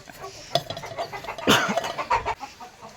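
A broody village hen sitting on a clutch of about fifteen eggs in a container on a backyard poultry farm gives short, scattered clucks and soft grunting calls, close by, with a few sharper bursts in between.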